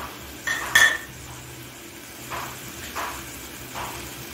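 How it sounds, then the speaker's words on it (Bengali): Rice and onions stirred in a metal pot, a spoon scraping and clinking against the sides in a few separate strokes, close up with a faint sizzle underneath and no speech. "চালটা আমি পেঁয়াজের সাথে ভালো করে মিশিয়ে নিচ্ছি।"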